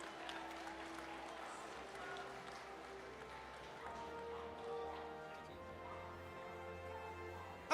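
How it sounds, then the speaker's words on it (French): An audience applauds at the final of a pedigree cat show at the Paris agricultural fair, a faint, steady patter of clapping that carries on for several seconds in a large hall with low crowd murmur. "vous pouvez les applaudir encore fortement."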